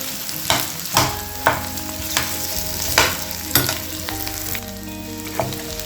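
Boiled potatoes being stirred in a frying pan with a ladle for aloo kurma: a loud, steady sizzle broken by regular scraping ladle strokes about every half second to second.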